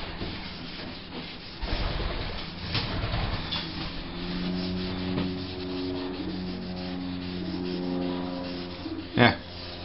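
Pitted motorbike exhaust downpipes being rubbed clean by hand, giving repeated close scraping, rasping strokes under a steady hum, with a sharp knock near the end.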